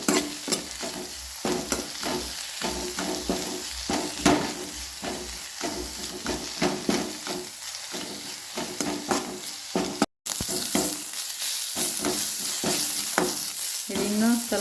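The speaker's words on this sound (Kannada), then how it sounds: "ದೊಡ್ಡ ಉರಿಯಲ್ಲಿ ಬೇಡ. ಹೀಗೆ ಚೆನ್ನಾಗಿ ಬಾಡಿಸಿಕೊಳ್ಳಿ." Thambuli ingredients sauté in a pan over medium heat, giving a soft, steady sizzle broken by rhythmic scrapes and clacks of stirring. The sound is fairly quiet and close, with no talking.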